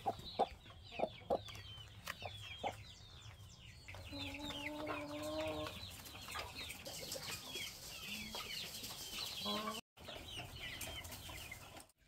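Backyard chickens in a coop cluck and call at a moderate distance, with scattered short clucks, a brief rooster-like call and some wing flapping, without talk.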